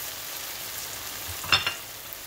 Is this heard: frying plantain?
yes